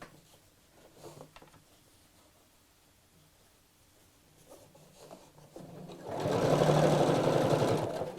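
A sewing machine stitches a rucksack seam, starting with a few faint short runs and then a loud, steady whirring burst in the final couple of seconds.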